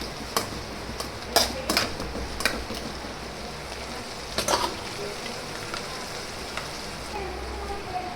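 Onions being stirred in a cooking pan, with scattered scraping clicks of a spoon against the pan over a soft background sizzle, irregular and fairly quiet, no talk.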